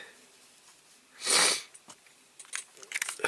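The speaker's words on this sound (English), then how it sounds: "Excuse the sniffing again." A single loud, breathy sniff up close, followed by faint clicks and rustling.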